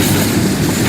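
A CSX train rolls past in the railway game Rolling Line, a loud, dense rumble of wheels and cars that fills the whole brief moment with a continuous low roar and no voices.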